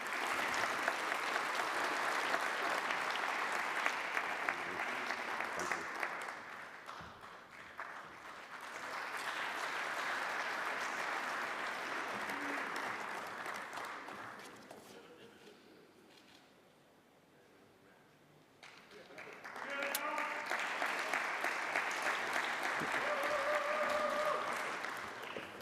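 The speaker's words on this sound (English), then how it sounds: "Another round of applause" Sustained applause from an audience at a culinary demonstration swells in waves, fades almost to nothing, then bursts back loudly with a few cheers near the end.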